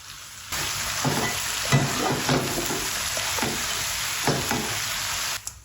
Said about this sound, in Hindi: इनको पहले मिक्स करते हैं। अब टमाटर डाल देंगे।